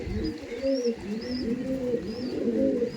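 Dasu breed pigeons in a Howrah loft give a run of overlapping low cooing rolls near the microphone, with a few faint high chirps.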